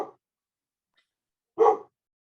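A dog barks outdoors where there's no snow, one short bark, a brief pause and then a second, louder bark, clear against quiet surroundings.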